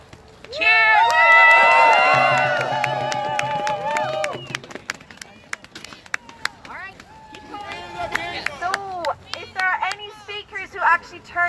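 A crowd at a Women's March rally in Minnesota breaks into a loud burst of cheering and shouting that fades after a few seconds, followed by scattered voices, claps and renewed calls from the gathering.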